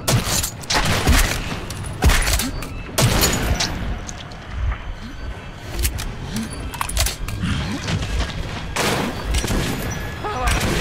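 Double-barrel shotgun fire in Metro 2033, loud heavy blasts in separate bursts with rumbling gaps between them, mixed with other game sounds and shouting.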